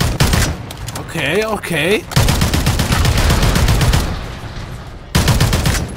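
Rapid rifle fire from a .30-06 battle rifle in Modern Warfare 3, loud sharp shots in quick bursts with a short pause, plus an electronic warbling effect and a brief spoken word.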